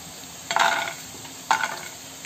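Five whole red chilies and cashews are roasted in a dry pan on a gas stove, with two short bursts of scraping and rattling as the spoon moves them over a faint background hiss.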